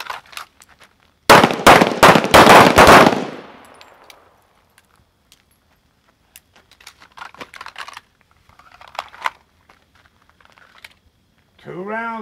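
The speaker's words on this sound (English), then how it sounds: "Single round to the head from the holster." A handgun is fired at night, drawn from the holster during training: a sharp burst of close, loud reports in quick succession, then fading echoes, with faint distant voices and other sounds afterward.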